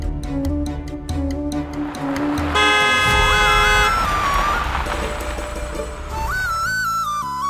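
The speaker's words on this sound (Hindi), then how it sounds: "गाड़ी की आवाज आई तो" A car pulls up outside a house, sounding its horn in short toots under swelling dramatic music, with a sustained loud stretch before fading to lighter honks and tones.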